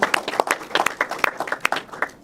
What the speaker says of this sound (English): Please give him a round of applause, and his family.